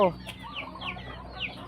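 Chicken clucks in short repeated bursts, fairly close, with soft background noise and a brief low vocal sound at the start.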